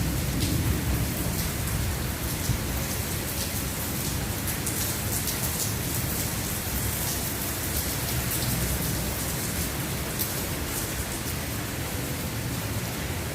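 Heavy torrential monsoon downpour pounds steadily and loudly throughout, a dense continuous roar of rain hitting surfaces up close with no voices.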